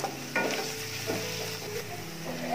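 Onion with crushed ginger-garlic and a cut green chilli sautéing in a pan, a soft close sizzle with brief stirring scrapes over a low steady hum.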